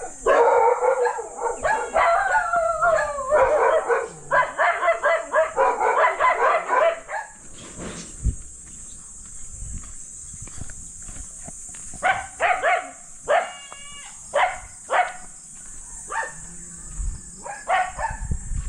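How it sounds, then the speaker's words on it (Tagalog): Dogs bark in quick repeated bursts, with a long drawn howl-like stretch early on, then scattered sharper barks and yips nearby. "yan aso dito sa Pilipinas oh."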